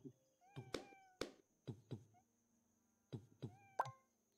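Cartoonish cat meows from the Hidden Cats in Town video game, several short mews and squeaky calls in quick succession mixed with soft plopping clicks, clear and close against a quiet background.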